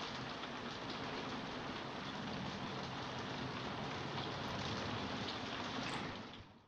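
Steady rain in the film Rear Window makes a dense, even hiss that holds for several seconds without a break, then fades at the very end.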